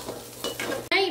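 A few bursts of stirring and frying in a pan as spices are tempered for mutton kudal kulambu, with a brief sharp crackle of hot oil sizzling at the end.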